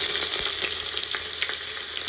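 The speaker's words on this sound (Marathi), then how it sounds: "आणि कांदा चांगला ट्रान्सपरंट होईपर्यंत भाजून घ्यायचा।" Two lengthwise-sliced onions sizzle in a pan of oil over low heat alongside roasted peanuts, a steady, dense crackling hiss that carries on without a break.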